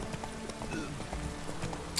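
Horse hooves clip-clop steadily in The Witcher 3: Wild Hunt over a low game-world background, with a faint voice partly under the hoofbeats.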